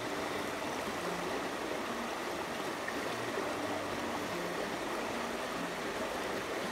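Creek water rushes in a steady, even wash as black sand is swirled in a gold prospecting pan, a continuous moderate hiss with no talking.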